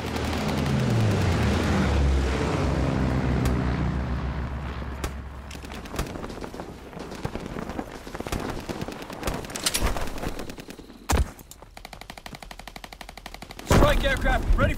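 An aircraft strafes the ground in a Call of Duty: WWII match, opening with a long roaring burst of heavy gunfire and explosions, then scattered shots, impacts and another loud burst near the end.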